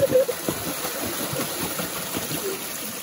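A waterfall in the Hastgiri hills pours steadily in a continuous broadband rush, with a low rumbling texture and no voices.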